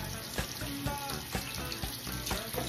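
Tap water runs steadily while a tattoo bandage is peeled off skin, a close, continuous splashing stream with small sticky pulls and crackles on top.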